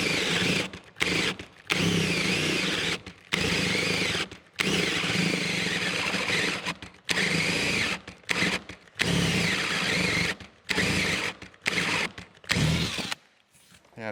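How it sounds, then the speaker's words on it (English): Power drill boring a 50mm hole with a Famag Bormax Forstner bit into wood, loud and close, running in repeated bursts of several seconds separated by brief stops. "it takes quite a lot of effort to drill a 50mm hole"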